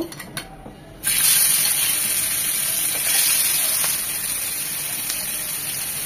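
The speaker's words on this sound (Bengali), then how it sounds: "এই প্যানেই মাছগুলো ভেজে নেব।" Kachki fish hit hot oil in a pan, and after a second of near quiet a loud, steady sizzling hiss starts abruptly and keeps going.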